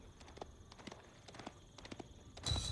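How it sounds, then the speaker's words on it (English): Horse hooves in the Age of Empires video game, a quick run of light clip-clop hoofbeats, faint and rhythmic, ending in a brighter burst of game sound. "With each gallop of his horse's hooves, more of Guillaume's land was revealed to him"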